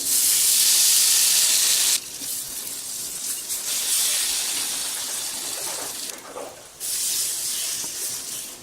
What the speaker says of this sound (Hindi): इसके बाद हम इसे पैन में रख देते हैं पकने के लिए।